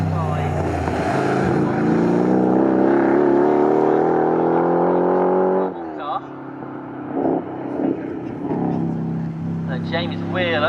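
Historic race cars, including a Jaguar E-Type, race at Snetterton. A loud engine note rises in pitch, then drops away as a commentator speaks over the track noise.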